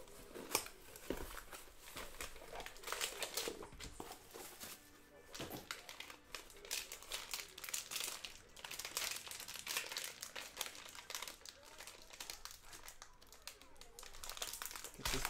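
A trading card wrapper crinkles and crackles in quick irregular bursts close by, quiet overall, as a pack is opened.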